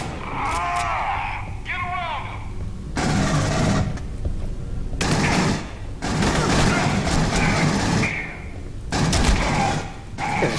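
Gunfire in the Aliens: Colonial Marines video game, heavy sustained bursts of automatic fire, loud and close, in several long stretches separated by short gaps, with someone talking over parts of it.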